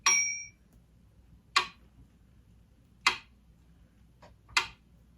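A metronome app on an iPad ticks at 40 beats per minute, four sharp, bright clicks spaced evenly and slowly apart in an otherwise quiet room.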